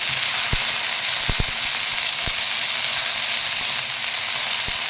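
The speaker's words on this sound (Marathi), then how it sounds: "आता मस्त असं भेंडी भाजून घेऊया" Okra (ladyfinger) frying in a pan gives a steady, close sizzle, broken by a few sharp clicks or taps from stirring. No voices are heard.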